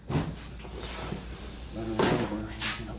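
The door of a bartop arcade cabinet swings open during assembly, heard as a few close wooden knocks and clattering thuds among handling noises.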